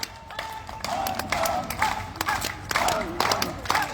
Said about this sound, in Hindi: ताली बजा लीजिए पंडित सर